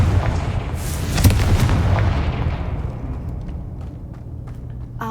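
A Confringo spell explosion in the video game Hogwarts Legacy, a loud booming blast with crackling bursts up front that then rumbles and fades out over a few seconds.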